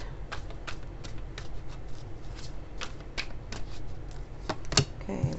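A tarot card deck shuffled by hand, giving a run of crisp, close riffling snaps at an irregular pace, fairly quiet and heard alone.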